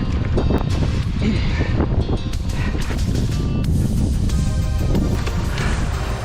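Strong wind buffeting the microphone on an electric raft out on a lake in high winds, a loud continuous rumbling roar with gusts and water slapping, up close, with no talking.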